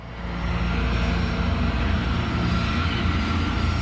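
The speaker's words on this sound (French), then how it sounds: "Le Boeing de la Paname dépasse la sortie C3 et continue en direction du 747 de la KLM qui, lui, se prépare à décoller." A Boeing 747 airliner taxiing on the airport ground, a loud, steady broadband engine roar that swells in over the first half second and then holds constant, with no voices.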